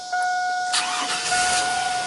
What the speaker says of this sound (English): Engine still howls a little bit, but it was doing that.